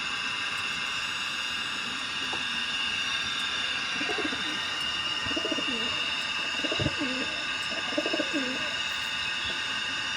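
Kalshira pigeons coo softly in a few low, rolling phrases over a steady background hum, starting a few seconds in.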